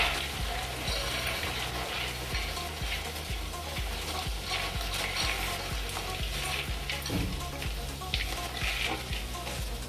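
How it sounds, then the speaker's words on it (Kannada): Chopped onions fry in a hot pan for a traditional tempering, a steady dense sizzle running throughout with a rhythmic low ticking beneath, close and fairly loud with no talking. "ಈಗ ಈರುಳ್ಳಿ ಒಗ್ಗರಣೆ ಹಾಕಿದ್ದು ಸ್ವಲ್ಪ ಬೆಂದಿದೆ"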